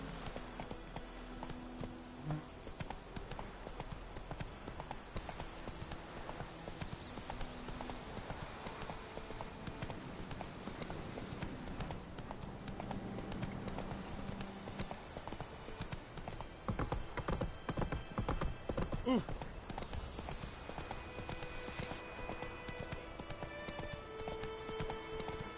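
Horse hooves clip-clop steadily in a PS4 video game, a continuous gallop with a brief whinny, fairly faint and even in rhythm, with some game sounds mixed in.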